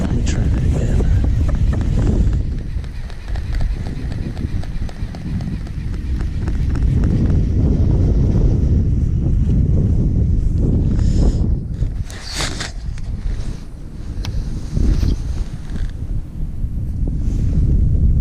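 Steady wind buffeting a microphone outdoors during bass fishing while casting a half-ounce swim jig, a loud continuous low rumble with gusts swelling and easing throughout, and a voice talking faintly beneath it.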